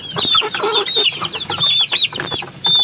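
Upgraded native chickens on a Philippine farm clucking and calling close by, a busy overlapping run of clucks and short squawks filling the whole moment, loud and alone.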